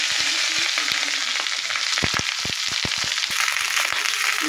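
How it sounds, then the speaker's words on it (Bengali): Rohu fish fries in hot oil in a pan, a steady, dense sizzle broken by scattered sharp pops and crackles. "রুই মাছ তরকারি তাওয়াতে দিয়ে দিয়েছি, এবার ভালোভাবে ভেজে নেব"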